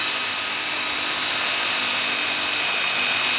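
A power drill running continuously while boring holes to secure a door, a steady high-pitched whine with a buzzing edge holding at an even level throughout.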